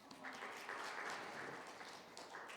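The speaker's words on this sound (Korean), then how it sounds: "우리 박수 한번 하겠습니다." A church young-adult worship congregation claps together, a soft, dense patter of many hands that holds steady for a couple of seconds, faint and somewhat distant.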